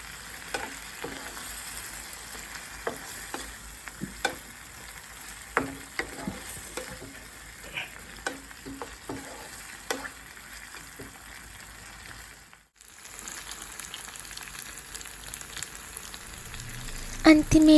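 A squid and prawn seafood curry gets stirred in a pan with repeated scraping taps over a soft bubbling sizzle. A brief hush near the end precedes renewed stirring.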